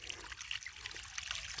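A water ram pump forces water up an irrigation pipe toward an elderberry field, giving a steady, quiet trickling and dribbling of flowing water, close by and alone without any talk.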